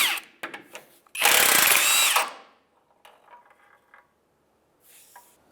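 A power tool spins out a cradle bolt on a 2003-2011 Honda Element, one loud, close burst of about a second of whirring, surrounded by faint clicks and quiet shop sounds.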